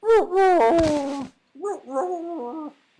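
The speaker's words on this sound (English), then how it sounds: "Wolf howl for his cast." Wolf howl sound effect for a spell cast in a video game under development: two loud, close, wavering howls, the first long and sliding, then a short pause before a second, shorter howl.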